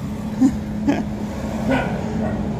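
A dog inside a hardware store gives several short, separate barks and yips over a steady background hum.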